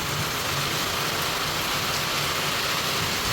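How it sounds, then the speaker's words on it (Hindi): Steady unseasonal rain falls in a dense, even hiss with no pauses, loud and close, with no voices. "बिन मौसम बारिश है, सुबह कुछ भी नहीं था और अब देख लो"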